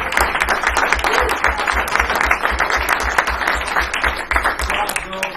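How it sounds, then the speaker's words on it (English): At a city commission meeting, the audience gives a warm, sustained round of applause for a girls' team's coaches, with dense, steady clapping filling the room and a few voices mixed in underneath. "if we could give a big round of applause for the entire team that coached"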